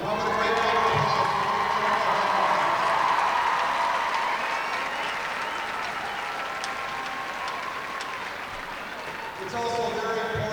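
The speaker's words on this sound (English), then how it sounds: "How about a great round of applause?" Dense, sustained crowd applause and cheering in the TD Garden arena for the two Massachusetts Division II high school hockey finalists, loud and continuous with voices mixed in, easing slightly before a fresh swell near the end.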